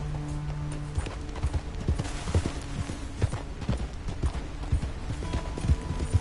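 Horse hooves clop steadily at a riding pace in the video game Red Dead Redemption 2, a continuous rhythmic run of dull thuds with faint tack jingles over a constant background bed.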